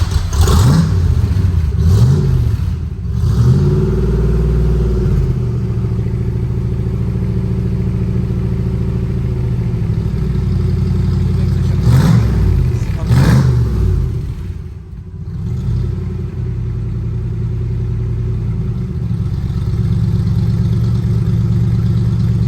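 Car engine running loud and close, mostly a steady idle rumble with a few brief revs rising and falling through the clip.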